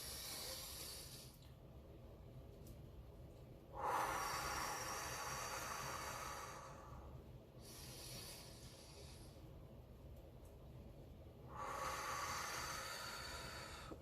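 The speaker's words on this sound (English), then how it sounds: "let's take some deep breaths together." Slow, deep breathing, with long airy inhales and exhales in a steady rhythm, close to the microphone and soft, with no talking.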